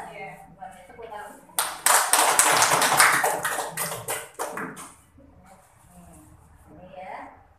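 A burst of hand clapping applause from a small group during a scapula massage demonstration, loud and dense for about three seconds, then tapering into scattered claps with talk before and after.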